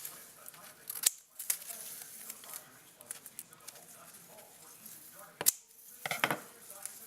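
Camouflage tape strip being trimmed for winter airsoft camouflage, with a few sharp snips and cutting clicks at intervals amid faint handling rustle and quiet background noise.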